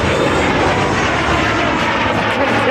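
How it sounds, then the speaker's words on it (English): A Dassault Alpha Jet roars past at low speed during an air show, a loud, steady, broad engine rumble and rush filling the whole moment with no talk. "demonstrate the excellent maneuverability of the Alpha Jet as it performs in the low speed"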